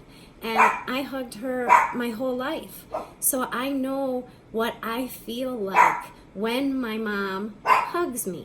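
A pet dog barks and yips intermittently in a home while someone talks steadily over it, the barks short and mid-distance, breaking through between her phrases.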